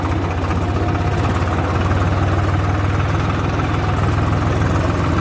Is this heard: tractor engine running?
yes